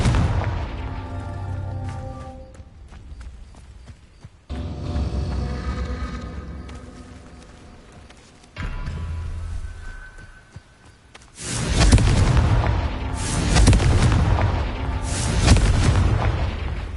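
Confringo blasting spell cast in the Hogwarts Legacy video game, heard as a series of loud booming blasts, each followed by a rumbling decay, with a denser, heavier volley of explosions in the final seconds and no talk.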